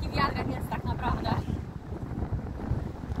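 Strong wind buffeting the microphone at a Red Sea resort in Marsa Alam, Egypt, a steady low rumble and roar running throughout, with faint voices over it during the first second and a half.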